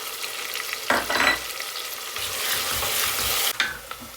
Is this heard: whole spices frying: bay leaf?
yes